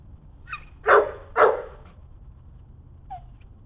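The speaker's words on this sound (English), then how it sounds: "I don't want that barking." A dog named Bear lets out two sharp, close barks in quick succession, followed later by a faint short whine in an otherwise quiet room.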